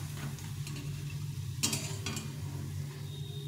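Vegetable pakoras (bora) frying in a small kadai with a little oil, a steady low crackle under a constant hum, with a couple of brief sharper clinks partway through.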